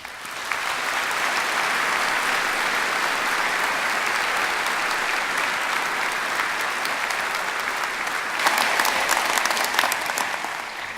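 Sustained audience applause at a Ulster University graduation ceremony in Belfast, a dense steady clatter of many hands filling the hall for the full stretch and swelling slightly louder near the end.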